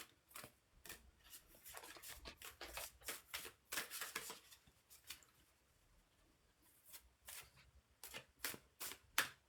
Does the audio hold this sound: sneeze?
no